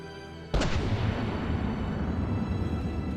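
In From the Depths, a single heavy turret shot booms sharply and close, followed by a long rumbling decay, after a quieter stretch of steady mechanical hum.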